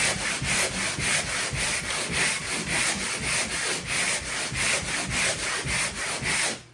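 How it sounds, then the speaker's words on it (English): Steady rhythmic scraping of a pole sander across a drywall patch, strokes repeating about twice a second, close and continuous with no voices. "And then you're just going to start sanding."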